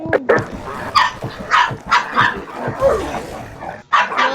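Several dogs bark repeatedly in quick, uneven bursts, with a few higher yips mixed in, fairly close and loud.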